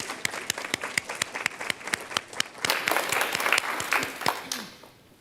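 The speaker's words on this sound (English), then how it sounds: "Let's give a round of applause for those people" Applause from a congregation during a Unitarian Universalist Sunday service, beginning with sparse distinct claps that thicken into a fuller round of clapping before fading out near the end.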